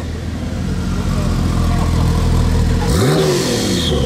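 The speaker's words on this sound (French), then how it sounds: "Une Porsche Turbo qui n'a pas un échappement d'origine." A Porsche Turbo fitted with a non-original aftermarket exhaust revs among traffic at a supercar rally passing through Monaco, a loud continuous engine drone that swells into a sharp rising rev near the end.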